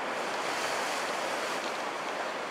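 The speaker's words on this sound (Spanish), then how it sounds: "acá tenemos el mar Atlántico." Atlantic Ocean surf at a city beach in Mar del Plata, Argentina, makes a steady, loud, continuous roar of breaking waves, with some wind and no voices.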